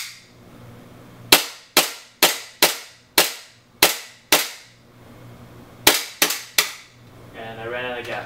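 WE-Tech 1911 gas airsoft pistol test-fired with an empty magazine: a string of sharp, loud cracks in an uneven rhythm, seven in quick succession then three more after a pause, with a faint hiss at the end.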